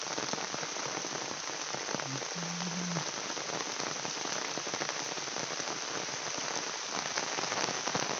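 Rain falls steadily and evenly, a constant hiss of drops on a surface with no pauses, moderately loud and close.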